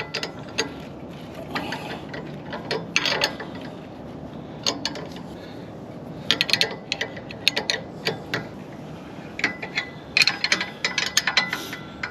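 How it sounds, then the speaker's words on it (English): A ratchet snugs a 19 mm nut on an anti-rattle trailer hitch, giving bursts of close, crisp clicking with short pauses between strokes. "And it's 19 mil, so I'm just gonna give this a little snug."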